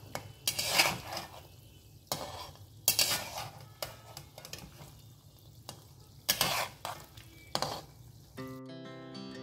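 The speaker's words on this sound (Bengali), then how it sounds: "আমার দেখো চিকেন পকোড়াগুলো ভাজা হয়ে গেছে" Chicken pakoras frying in hot oil, a steady sizzle broken by repeated bursts of stirring and utensils scraping and clinking against the pan, close and fairly loud, ending with a brief tonal sound.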